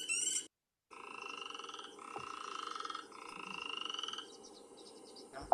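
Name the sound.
chorus frog trill call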